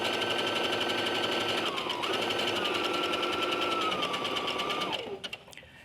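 Home sewing machine running steadily while stitching a narrow wobble stitch, a rapid even whirring hum with a faint whine whose pitch shifts slightly before the motor winds down and stops at the end.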